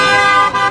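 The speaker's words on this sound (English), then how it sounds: "So far, everyone's honking." Car horns honk at a street protest outside a Scientology building, a loud, close, sustained blare with a couple of brief dips near the end.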